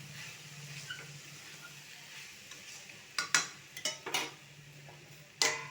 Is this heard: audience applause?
no